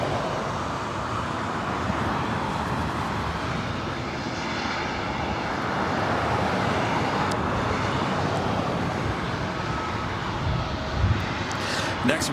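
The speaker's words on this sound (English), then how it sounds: "Next arrival is Air Canada Flight 556, coming in from Vancouver, a 737 at MAX 8." An Air Canada Boeing 737 MAX 8 arrives at Los Angeles airport, its broad engine roar swelling steadily over continuous outdoor noise with a slight rise near the end.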